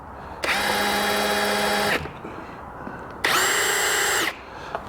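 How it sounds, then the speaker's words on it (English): A power drill spins a bit against a Ford Raptor body while holes are marked for an Alpha roof rack, two loud, steady whining bursts about two seconds and one second long with a quiet pause between. "I'm going to hold this in place really quick just so I can mark my holes with the drill bit"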